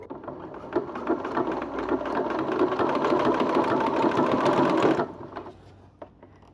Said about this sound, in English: the machine will do its stitch just over the edge of the fabric